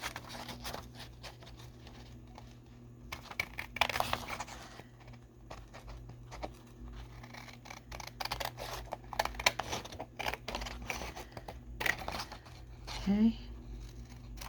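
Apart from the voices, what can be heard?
scissors trimming vintage book page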